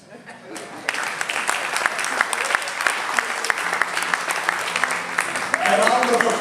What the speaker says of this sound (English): A round of applause for Mr. Charles Ngobeni.